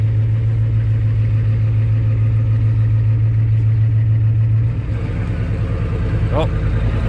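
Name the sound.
Ford F250 7.3 IDI diesel engine running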